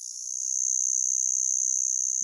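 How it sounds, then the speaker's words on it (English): Periodical 17-year cicadas of the Great Eastern Brood in Fairfax County drone in a loud, continuous, high-pitched buzz that holds steady and alone throughout. "you're familiar with the large, long buzzing sound that they make"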